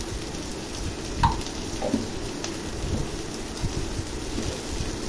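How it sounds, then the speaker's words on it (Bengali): Ridge gourd sizzles in a pan with ginger-chili paste, cumin and coriander powder, salt and turmeric for a rohu fish curry. It gives a steady, dense frying hiss with a few faint clinks, and no one talks. "এই মশলা এবং সবজি খুব ভালো করে কষিয়ে নেব।"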